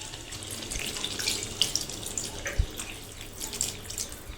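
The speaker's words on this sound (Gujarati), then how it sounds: "આપણે રસાવાળું શાક કરવા માટે તેમાં પાણી નાખીશું થોડુંક." Water is poured into a pan of whole-potato curry during cooking, a steady close splashing trickle lasting a few seconds with small gurgles and drips.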